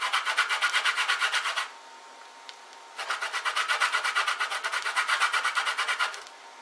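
A lemon scraped against a metal grater makes two bursts of quick rhythmic rasping strokes separated by a short pause, close and clear with no voices.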